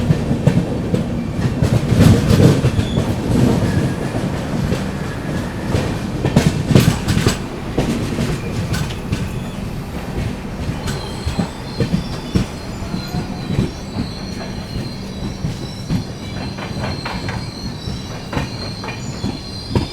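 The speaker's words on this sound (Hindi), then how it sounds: "अपनी GT एक्सप्रेस अराइव कर रही है सिरपुर कागज़ नगर रेलवे स्टेशन पे।" The Grand Trunk Express arrives at Sirpur Kagaznagar railway station with a loud, continuous rumble of rolling wagons, squealing wheels and a clickety-clack over the rails that eases slightly as the train slows. No voices are heard.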